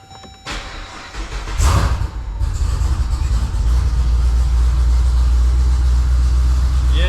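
A Jeep Grand Cherokee Redeye Trackhawk turns over and fires on its first startup, a brief cranking burst followed by a loud, deep, steady idle rumble close by.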